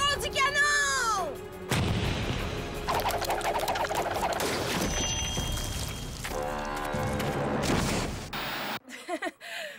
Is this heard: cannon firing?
yes